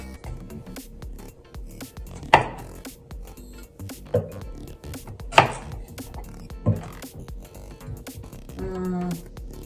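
Knife slicing radish lengthwise on a board for pickles, four or five separate crisp chops spaced a second or two apart over a quiet background, without talk.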